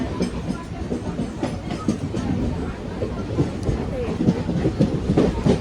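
Steady rumble and rhythmic clatter of a moving Panvel local train, fairly close and continuous, with faint voices mixed in.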